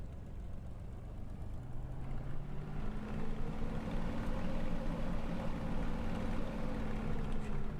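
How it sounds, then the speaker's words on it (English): A Spitfire engine in Microsoft Flight Simulator drones as a low, rough radial-style hum that steps up in pitch partway through and then holds a steady tone, continuous and fairly quiet, with no talk. "they've used a radial engine noise for that"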